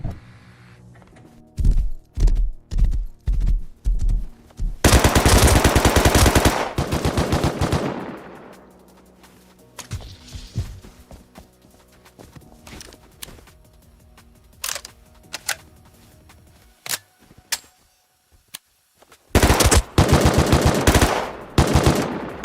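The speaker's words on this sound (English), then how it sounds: "eventually there was a lot of gunshots outside" Rust on console: bursts of automatic gunfire crack loudly in rapid strings, with long sustained volleys and scattered single shots between quieter gaps. The shooting comes from outside at night, and no voices are heard.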